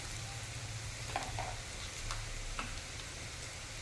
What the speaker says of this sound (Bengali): পেঁয়াজটা দেখুন ঠিক এইরকম ভাজা ভাজা হয়ে যাবে